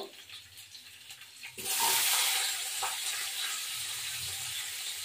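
Onion dropped into hot oil in a pan: quiet cooking sounds give way to a sudden loud, broad sizzle that holds steady and close for several seconds, with no talk.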